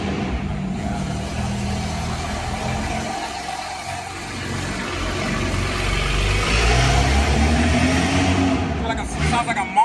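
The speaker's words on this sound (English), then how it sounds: "Sounds like a monster truck leaving." A car engine revs loudly nearby, a steady throaty rumble that builds and swells as the car pulls away, with voices underneath.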